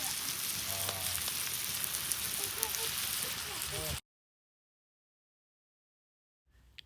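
Lobster and chanterelle mushrooms sizzle and fry in a pan over an outdoor fire, a steady close crackle for several seconds with faint voices underneath, then cutting abruptly to silence before a short return.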